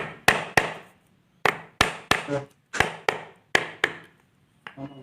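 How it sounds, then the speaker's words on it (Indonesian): A hammer strikes a drilled book to flatten it for binding, about ten sharp, close knocks in irregular pairs and singles with short ringing decay between blows. "Setelah buku dibor, diratakan pakai palu."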